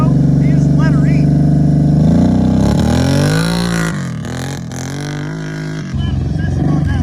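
Kawasaki KFX700 ATV held on the brakes at launch: the engine revs loudly and close, with the pitch swinging up and down several times as someone talks over it.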